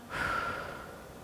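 A single long exhale during a diaphragm breathing exercise, a soft breathy rush that swells quickly and then tapers away, close to the mic and fairly quiet, with no talking.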